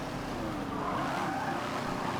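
Formula E race car in Forza Motorsport 7 at speed, a dense continuous electric whine and road roar with tire noise, steady and close throughout.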